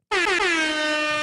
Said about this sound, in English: Oh, I do have an air horn.